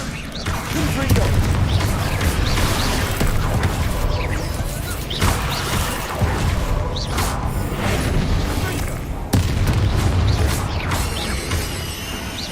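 Confringo and Bombarda spell blasts in Hogwarts Legacy burst repeatedly amid dense, loud game combat noise, with booming impacts and crackling debris layered together; a voice calls out over the action.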